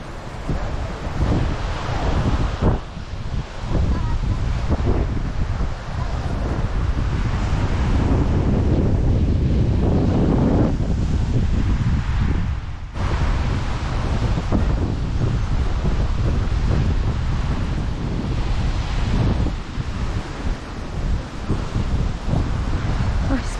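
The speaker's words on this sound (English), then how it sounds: "It's windy." Strong, steady wind buffeting the microphone with surf rumbling underneath on a crowded Boracay beach in the Philippines, loud and continuous throughout.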